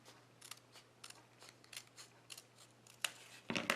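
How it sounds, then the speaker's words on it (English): Scissors snip through a paper label in a home craft-shop setting, a series of quiet, crisp cuts in an irregular rhythm, closing with a louder rustle of paper. "I'm just going to live on the wild side and use my scissors on this."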